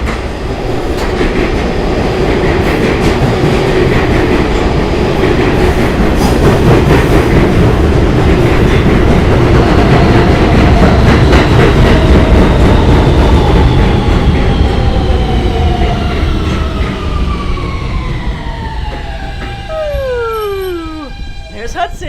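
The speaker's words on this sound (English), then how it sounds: "And look at the train coming." Subway train pulling into a high elevated platform in Red Hook, Brooklyn: a loud, close rumble and rattle of wheels that gives way to rising and falling squeals of brakes as the train slows to a stop.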